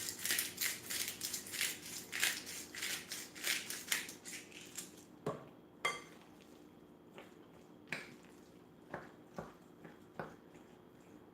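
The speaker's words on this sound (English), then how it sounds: "Go ahead and load it up with some crushed black pepper." A pepper grinder cracks black pepper in a quick run of close, crunchy rasping twists, then slows to scattered single clicks and turns, with no talking.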